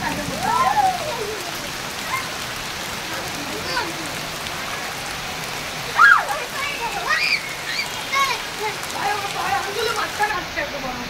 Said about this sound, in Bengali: এটা রহমতের বৃষ্টি, এটা রহমতের বৃষ্টি, এটা আসলে রহমতের বৃষ্টি